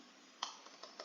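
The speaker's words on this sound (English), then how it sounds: "type in localhost" Several soft, quick keystrokes tap on a computer keyboard as a web address is typed, faint and isolated, with a few irregular clicks.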